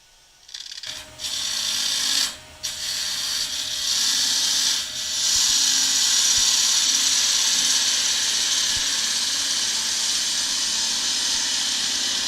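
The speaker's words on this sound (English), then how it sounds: "I'm going to take a nice sharp spindle gouge and just take a couple of cuts across the end just to clean it up." A sharp spindle gouge cuts across the end of a spinning wooden piece on a lathe, a steady close hiss and scrape over the motor's hum after it starts, with one brief pause early on.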